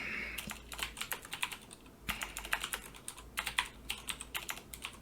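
Fingers type on a computer keyboard while configuring network routers, with quick, close, fairly faint keystroke clatter in uneven bursts and brief pauses, and no speech.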